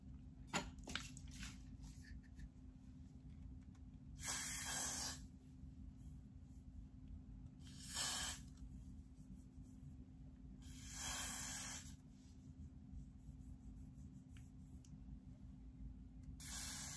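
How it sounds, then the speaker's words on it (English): A spray bottle is misted around the edge of a wig cap in three separate hissing bursts spaced a few seconds apart, each lasting about a second, over a steady low hum. "And then I'm going to spray the perimeter."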